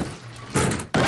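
A door in a cartoon comedy scene is bumped and then shut hard on someone, giving two quick heavy thuds about a third of a second apart, loud and close, with no talk over them.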